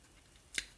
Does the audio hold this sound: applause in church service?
no